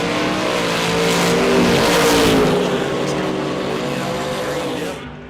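Drag race cars launch side by side at a no-prep event at Ozark Raceway Park, one of them a 1970 Chevrolet Nova. Loud engines roar and rev hard as they pull away, then the noise fades toward the end.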